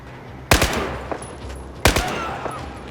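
Two sharp, close gunshot bursts in Battlefield 4, each trailing off with echoing tails, separated by a pause over a low ambient battlefield rumble.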